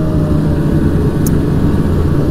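A Polaris Edge X 800 snowmobile engine running at quarter throttle, a loud, steady, close engine drone with wind roar that holds an even level throughout.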